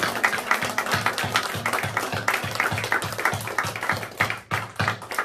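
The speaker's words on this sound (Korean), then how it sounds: "하나님께 영광의 박수 올려드리겠습니다" An Easter Sunday church congregation claps for God after a closing prayer, a dense wash of many hands backed by a steady, rhythmic low thumping, continuous and fairly loud throughout.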